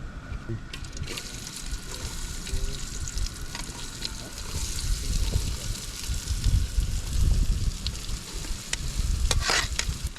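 Crab pieces are stirred and fried in hot oil in an outdoor village kitchen in Konkan, giving a steady crackling sizzle with scraping stirs and occasional sharp clicks, close and fairly loud, with no talk.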